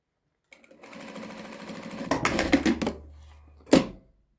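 A sewing machine runs steadily while stitching Adana şalvar trousers, with a continuous mechanical whir that grows louder and busier midway, then stops, followed by a sharp clunk near the end.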